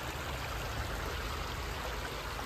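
Shallow water rushes and trickles steadily over small stones in a stream near a lakeside path, a dense continuous babble close by with no voices.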